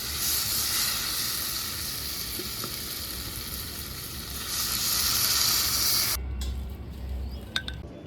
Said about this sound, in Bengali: এখন আমি এবারে আলুটা সেদ্ধ হবার জন্য একটু জল দিয়ে দেবো